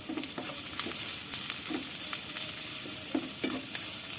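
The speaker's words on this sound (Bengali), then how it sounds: "এখন সবকিছু ভালো করে আবারও মিক্স করে নিচ্ছি।" Spices with turmeric and black pepper being stirred in a hot frying pan, a continuous sizzle broken by repeated scraping strokes of a utensil at an irregular rhythm.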